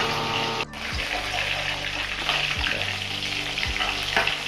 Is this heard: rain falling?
no